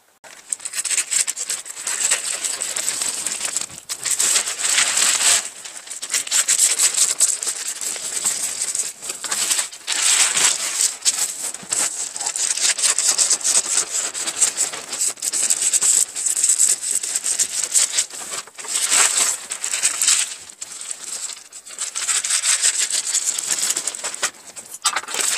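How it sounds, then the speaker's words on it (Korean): Scissors cutting out a paper sewing pattern for a raglan-sleeve jacket with a yoke, a continuous close crisp snipping and paper rustle with short pauses between cuts, no talking. "그 다음에 요거를 잘라 가지고 패턴 정리를 하도록 하겠습니다."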